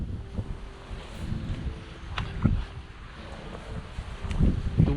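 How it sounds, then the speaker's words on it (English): Wind gusts outside St Lawrence church at Bourton-on-the-Water, buffeting the microphone with a low rumble that rises and falls. A faint steady tone and occasional light knocks sit under it, and the gusts grow stronger toward the end. "The wind is beginning to get up a bit now"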